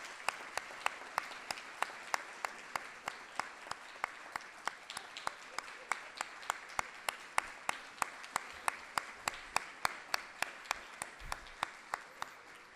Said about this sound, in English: Let's give all of our participants a round of applause.